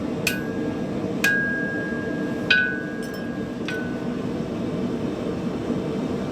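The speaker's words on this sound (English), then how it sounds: "if I hit the edge of my hammer right behind that bend" Four sharp metallic hammer strikes on the horn of an anvil, straightening a bent nail, ring out at uneven intervals, each leaving a bright lingering ring over a steady low background rumble.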